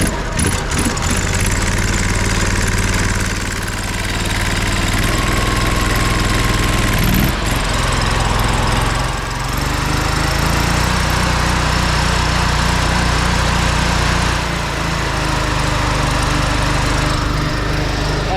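Zeta 40P pressure washer engine running at three-quarter speed, a steady loud mechanical drone with a constant low hum and slight vibration throughout, no talking.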